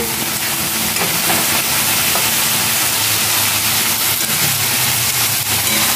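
Six green chillies and garlic fry in hot oil in a pan for a chicken dish, making a loud, close, unbroken sizzle and hiss that holds steady throughout.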